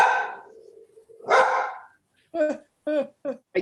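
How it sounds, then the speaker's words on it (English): A dog barks several times close to the microphone in a home during an online committee meeting. A couple of longer rough barks come first, then shorter yips in quick succession. "If you can hear the dog."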